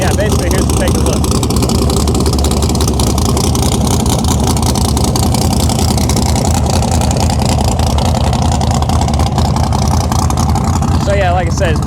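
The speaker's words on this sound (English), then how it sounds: "everyone's warming their cars up, getting ready to do this deal" Several cars idling and warming up together at an outdoor street cash-days car meet, a steady low engine rumble filling the scene with a person talking over it.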